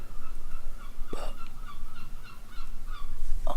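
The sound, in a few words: seagulls calling outside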